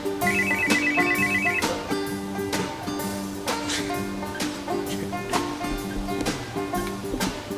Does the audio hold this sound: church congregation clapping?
no